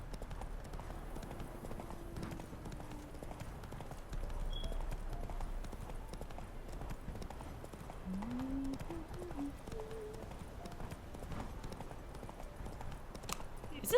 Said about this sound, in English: Oh, Roach, please.